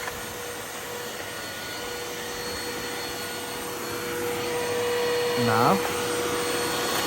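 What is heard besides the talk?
vacuum cleaner running with brush bar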